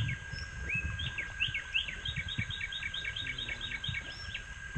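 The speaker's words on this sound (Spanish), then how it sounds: "Espectacular ese canto de pájaros" Birds sing near a fishing lake outside Bogotá, a rapid series of bright repeated chirps and a few whistles in the foreground over a low rumble of outdoor background noise.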